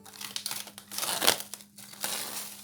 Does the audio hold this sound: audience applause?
no